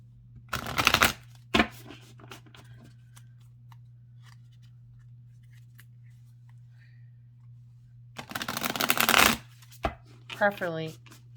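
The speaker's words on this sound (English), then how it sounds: "I need to do an entire video of just shuffling." Two bursts of card shuffling, a riffle at the start and another near the end, separated by near-silence over a low steady hum.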